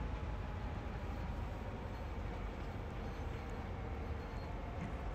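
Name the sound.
locomotive engine roaring in Train Sim World CSX Heavy Haul video game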